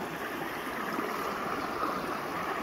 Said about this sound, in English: we're still getting that water coming from either side, water on water, to de-energize